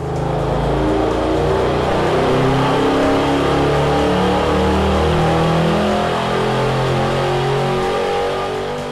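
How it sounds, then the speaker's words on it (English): LS2 crate engine running on a dyno after a fill of synthetic 5W40 oil, a loud steady roar with layered harmonics that holds strong and unbroken for the whole stretch, with no voices. "Now we will fill the engine with the leading synthetic 5W40 oil and make our dyno run."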